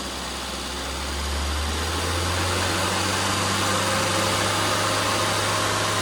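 A car engine fresh from a cylinder head service holds a steady 2,000 rpm, giving a continuous close hum with a low, even drone that swells slightly after the first second.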